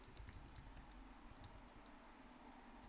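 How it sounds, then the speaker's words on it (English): Quiet keystrokes on a computer keyboard while coding an invoice system, a scattered run of soft clicks heard faintly over a steady background hiss, with no voice. "Can I type this?"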